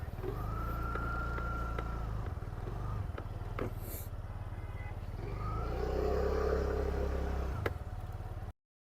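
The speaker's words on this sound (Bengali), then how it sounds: "তো গাড়িটাকে একবার স্টার্ট করে দেখাই" A TVS Jupiter 110 scooter with a 113 cc engine starts up and idles with a steady, close, low putter and a brief rev, with some background noise.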